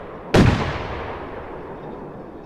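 One sharp, loud boom from a Popper Boy firework bursts near the start and then rumbles away in a long fading tail.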